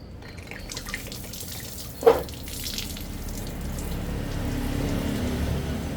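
Coolant drains from a Bristol Venturi 500 motorcycle in a steady running trickle, with a brief louder splash or knock about a third of the way in, then continued flow close by and without talk.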